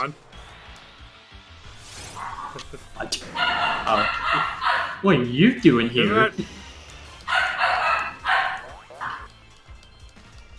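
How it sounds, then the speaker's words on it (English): A household dog yaps and barks in repeated bursts, fairly close, mixed in with a person talking nearby. "that's my fucking dog yapping"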